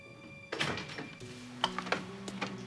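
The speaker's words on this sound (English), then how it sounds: "Doors open, Fletch." A door opens in a quiet indoor soap-opera scene: a soft thunk and latch click, then faint shuffling and small knocks as it swings, everything low and close.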